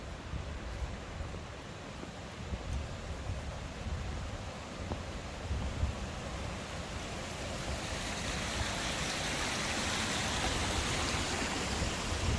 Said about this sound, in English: Strong old waterfall, you can see.